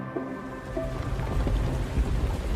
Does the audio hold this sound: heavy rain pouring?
yes